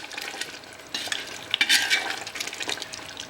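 Mutton with masala is stirred and fried in a pan for Mysore mutton curry, giving a close, busy sizzle with repeated scraping strokes that swell louder toward the middle.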